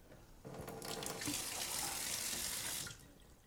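Water runs from a kitchen tap into a sink, starting abruptly, streaming steadily for about two and a half seconds at close range, then shutting off.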